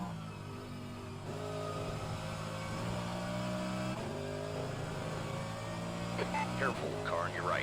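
Race car engines in an rFactor 2 sim race at Road America drone steadily with sustained revving and shifting pitch throughout, a continuous loud mechanical roar with brief gear changes.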